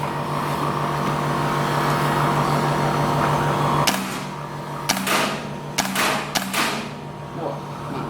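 Umarex KWA IWI Tavor SAR airsoft gas blowback rifle firing semi-auto shots, four or five sharp near cracks spaced about a second apart, following a steady mechanical hum.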